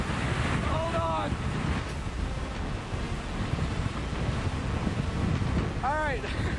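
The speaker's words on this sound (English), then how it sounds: "Wow, that was a heck of a gust." During hurricane coverage, a strong wind gust roars loudly and steadily into the microphone, a dense rushing blast that drowns the scene, with brief voices breaking through now and then.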